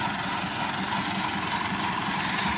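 Tractor engine running with a boom sprayer attached, a steady mid-pitched drone with a fine rhythmic knock, close and constant with no speech.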